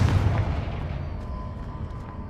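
A Confringo blasting spell explodes in Hogwarts Legacy with a loud, low boom up front. The rumble then trails off into a long, fading decay, and there are no voices.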